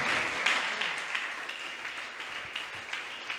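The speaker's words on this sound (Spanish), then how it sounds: "un aplauso fuerte a Dios" Church congregation applauding during a sermon, a steady moderate patter of many hands without talk, slightly swelling at the start and then holding even.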